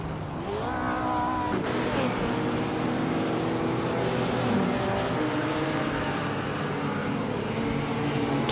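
A 1956 Jaguar D-Type race car in a racing game, its engine droning steadily with rising and falling revs as other cars run close by, no voices over it.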